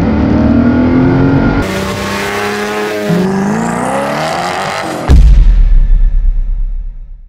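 A Ferrari Pista sports car pulls out with loud, close engine revs that climb and drop through gear changes, ending in a sharp, burbling blip.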